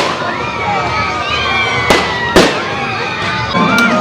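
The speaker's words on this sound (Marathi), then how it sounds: "एक तासापासून फटाक्यांची आतिषबाजी चालू आहे बघा" Fireworks at the Mauli fair in Chandori, a village, crack overhead in two sharp bursts and a fainter later pop, with whistling rockets and a steady crowd murmur underneath.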